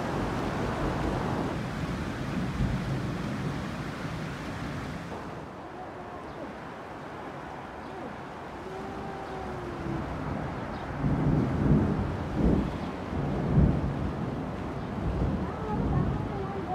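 Heavy rain and hail pounding down in Hangrang Valley, Kinnaur, a dense roaring wash with gusty wind and low rumbles, swelling in bursts of louder drumming toward the end.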